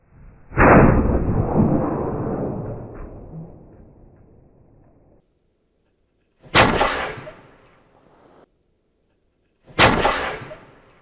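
Three black powder gun blasts ring out, each lit at the touch hole and firing musket balls. The first is a long roaring boom that fades over several seconds, and two sharper, shorter booms follow at intervals, loud and close with silence between.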